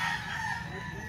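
A rooster crows once, nearby and fairly clear, a brief drawn-out call over faint background noise.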